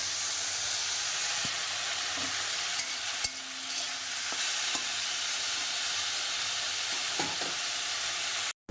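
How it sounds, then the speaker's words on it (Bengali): Okra fries in a pan with a steady, close sizzle, broken by occasional spatula knocks and stirring scrapes before the sound cuts off abruptly. "ঢ্যাঁড়সটাকে একটু ভেজে নিচ্ছি।"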